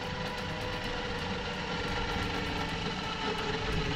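A FieryRed 5500 lb UTV winch hauls under full load, its motor giving a loud, steady droning whine that holds unbroken throughout with no talking.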